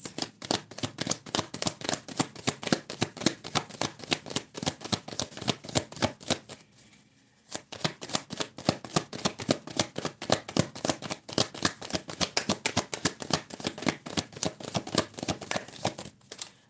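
A deck of cards being shuffled over and over in quick riffling bursts, with a brief pause partway through before the rapid shuffling resumes.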